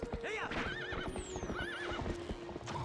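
A horse in the video game Twilight Princess HD neighs loudly over quick clip-clop hoofbeats, with high whinnying calls repeating across a short galloping burst.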